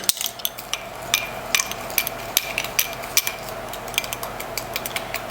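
Dry Italian seasoning, black pepper and cayenne being stirred together in a bowl, heard as a steady run of light clinks and scrapes from a utensil against the bowl, fairly close and without voices.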